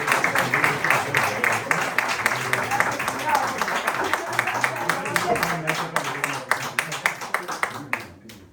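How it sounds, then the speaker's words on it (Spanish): An audience at a lecture claps after the talk, a steady run of distinct hand claps that thins toward the end, with voices talking over it. "otro fuerte aplauso, Juan."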